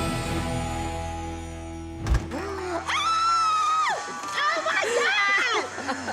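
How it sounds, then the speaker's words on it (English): Outside a multicultural hair salon, people scream and cheer with high, excited voices rising in bursts after a sharp knock, the shrieks loud and close and overlapping one another. "I can hear you scream"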